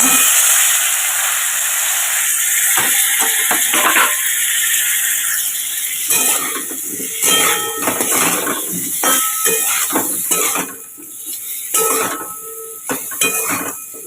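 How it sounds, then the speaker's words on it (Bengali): Potatoes frying in hot oil in a wok for a cauliflower curry, a steady hiss with repeated metal clatters and scrapes of a utensil against the pan, close and fairly loud with no talking. "আলুটা একটু ভাজা ভাজা হবে"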